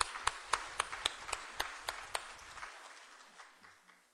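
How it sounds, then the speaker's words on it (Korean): A church congregation claps in unison to welcome new members, about a dozen crisp, evenly spaced claps that start strong and grow fainter, then trail off into near quiet. "우리 박수로 환영해 드립시다."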